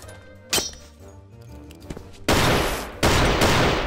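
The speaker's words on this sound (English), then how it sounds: "You just shot our friend." Rapid gunfire in Garry's Mod DarkRP: a sharp single crack early on, then two loud, dense bursts of sustained automatic fire close by, with quieter game sounds before them.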